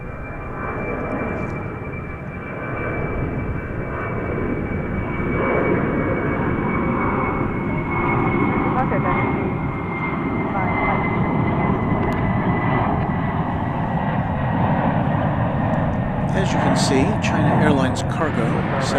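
A cargo Boeing 747 on the runway at DFW Airport gives a steady, loud broadband roar of jet engines that holds for the whole stretch, with no break and a little extra crackle near the end.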